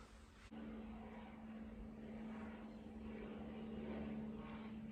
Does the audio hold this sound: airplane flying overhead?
yes